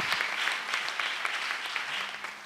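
Church congregation at a missionary retreat applauding, continuous dense clapping from many hands, steady and fairly loud throughout.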